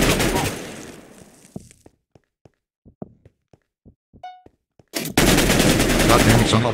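Video game AK-47 gunfire in a Minecraft minigame: dense bursts at the start and end, with a string of sharp single shots and thunks between them. The sound is loud and close.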